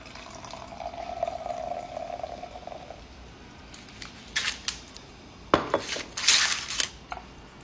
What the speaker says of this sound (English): When you pour yourself a glass of champagne